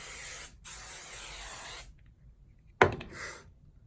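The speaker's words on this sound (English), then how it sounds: "I'll spray the hair and then curl it." Hairspray hisses onto hair in two long close bursts separated by a brief pause, then a sharp knock and a short final spritz.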